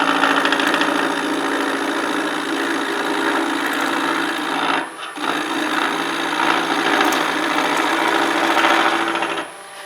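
A skew chisel shears wood spinning on a wood lathe, giving a loud, continuous rasping hum up close, briefly dropping out near the middle before resuming, then fading at the end.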